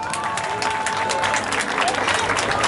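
An audience at a melon and okra tasting contest in Silivri claps steadily, a full, continuous applause with some crowd noise and a faint voice or tone weaving through it.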